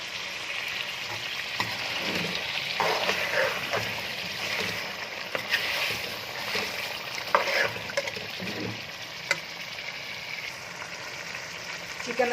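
Chicken sizzles and fries in a pan while a spoon stirs it in scraping, irregular strokes, a steady close crackle under occasional clinks.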